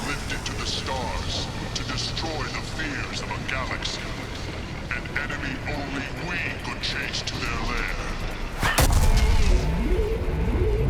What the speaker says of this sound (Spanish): es como una especie de pistón que pega un petardazo